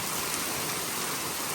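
Steady, even rain falls in the Himachal Pradesh hills, mixed with small hailstones, a close, unbroken wash of patter with no voices.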